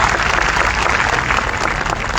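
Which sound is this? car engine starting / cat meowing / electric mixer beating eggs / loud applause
loud applause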